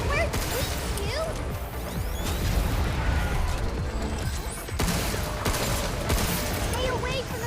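Heavy gunfire and crashing impacts from a battle in the video game Pragmata, a dense continuous barrage with booms and smashes, loud and constant, with voices talking over it.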